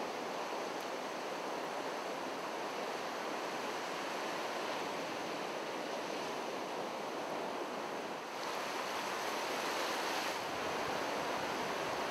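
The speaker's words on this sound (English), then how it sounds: "Gotta wait for the waves to come up again." Ocean surf breaking steadily on a North Carolina fishing beach, a continuous loud wash of waves with wind noise buffeting the microphone throughout, no voices.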